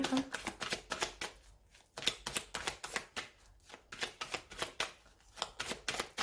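Tarot cards being cut and shuffled up close in a quiet room, a rapid run of crisp, papery riffles and snaps that pauses briefly partway through and then starts up again.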